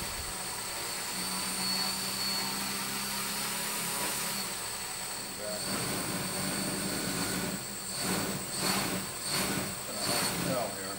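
A custom quadcopter tied down for testing runs its motors in a steady electric whine with high tones that rise and dip as the throttle shifts, near and continuous, with a voice talking at times.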